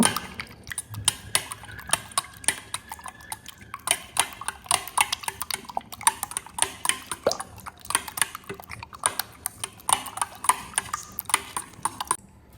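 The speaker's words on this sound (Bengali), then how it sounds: "ডিমটাকে ফেটে নেব" Eggs whisked in a bowl for a Bengali omelette with cumin powder, salt and vegetables, a rapid run of clicking utensil strikes against the bowl that keeps on steadily, close and fairly loud, with no talk.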